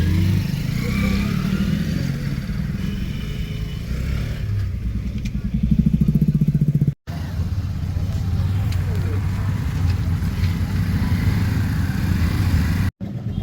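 Motorcycles and other vehicles idle and rev in a dense evening traffic jam on a mountain road on the Panch Kedar route, with a bus stuck among many bikes; engines rumble steadily and close throughout, and a person talks over the noise.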